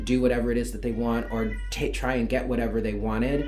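A pet cat meows in the background while a person talks continuously over it, the cat's cries faint and partly buried under the voice.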